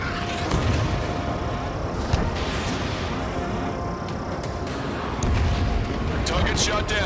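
Missile strike on an enemy aircraft in Ace Combat 7: a steady jet roar broken by a few muffled explosive thumps, with radio chatter over the engine noise.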